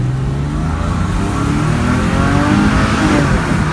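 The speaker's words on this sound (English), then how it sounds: "do I love the sound of that car" A 2006 Porsche 911 S Cabriolet engine revs loudly and steadily, its deep growl rising and falling slightly throughout, close by with no voices.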